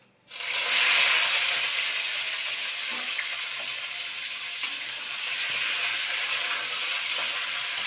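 Ridge gourd, potato, drumstick stalks and tomato drop into hot spices in a pan, setting off a loud, steady sizzle of frying that starts abruptly and holds for several seconds, with faint stirring clatter.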